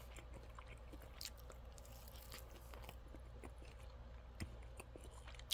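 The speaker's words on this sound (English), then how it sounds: "I am chewing with my mouth closed, but my mouth is so close to the microphone, so you're gonna get this ASMR" Chewing of Hillshire Farm sliced deli turkey breast and ham right at the microphone, soft wet smacks and squishy bites repeating irregularly, close and quiet with no talk.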